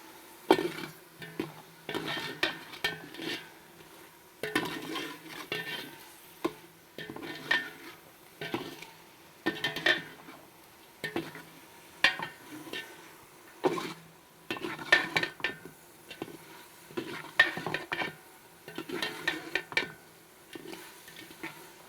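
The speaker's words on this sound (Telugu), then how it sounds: "వంకాయలు బాగా కొంచెం మెత్తబడ్డేదాకా వేపి ఉడకబెట్టి" Brinjals and green chillies fry in a pan for biryani, with a utensil repeatedly scraping and clanking against the metal in uneven bursts over a faint sizzle.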